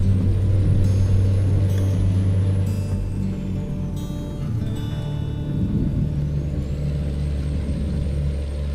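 Truck engine revving high in a trucking video game with a Peterbilt 388 wrecker, a loud steady drone whose pitch shifts and rises through gear changes, alone without talk.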